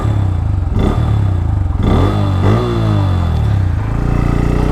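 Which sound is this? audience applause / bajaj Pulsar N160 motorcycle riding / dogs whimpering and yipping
bajaj Pulsar N160 motorcycle riding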